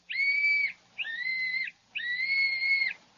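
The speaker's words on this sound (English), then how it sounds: "Blow the whistle quick, Jimmy." A little whistle is blown three times in a row, each a steady reedy two-tone toot of about half a second to under a second, clear and close with short gaps between.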